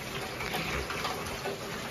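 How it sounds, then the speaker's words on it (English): Steady rain falls outdoors around a tree, a dense, even wash of pattering water with no breaks, fairly soft and constant throughout. "We got we getting rain."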